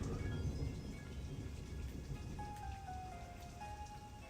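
A rain sound effect plays as a steady patter of falling drops with a faint low rumble, and a brief thin whistling tone rises near the end; no one speaks.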